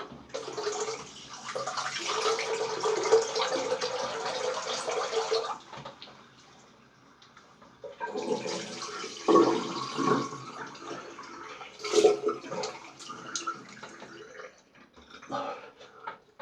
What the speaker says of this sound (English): Draining some water